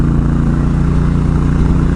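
A motorcycle engine fitted with a Yoshimura slip-on exhaust runs smoothly at a steady, throbbing idle, loud and close with an even low rumble.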